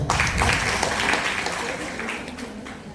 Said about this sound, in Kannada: ನಿಮ್ಮ ಚಪ್ಪಾಳೆಯ ಮೂಲಕ